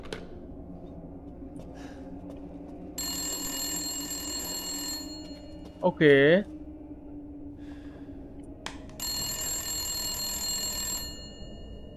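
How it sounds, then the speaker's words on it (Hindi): A telephone rings in two long bursts inside a house in the horror game Resident Evil Village, a steady electronic trill with a short gasp-like vocal sound between the rings and a brief spoken word. "फोन चुक क्यों रहा है जब कोई है नहीं।"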